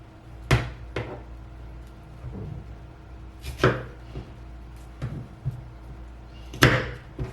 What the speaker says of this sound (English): we're still going to separate and make some very small florets here